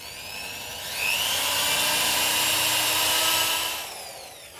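A power drill bores holes into wood for an insect hotel, spinning up to a steady high whine for a few seconds before winding down, close and alone.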